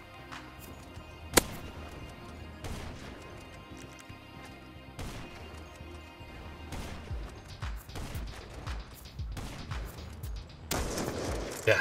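Gunfire in GTA 5 Online, with a loud single shot standing out early, followed by scattered shots and impacts over a busy game soundscape with no talking.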